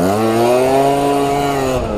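A 70cc stunt scooter with a 17.5 mm carburetor revs hard and steadily, a loud buzzing two-stroke whine held close throughout.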